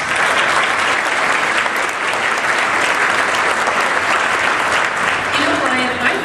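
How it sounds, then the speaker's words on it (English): Audience at a Big Brothers Big Sisters of Tampa Bay charity luncheon breaks into sustained, dense applause, a loud and even wash of clapping from many hands that holds steady from start to finish. "we ask that you all join us and SunTrust in applauding Anthony."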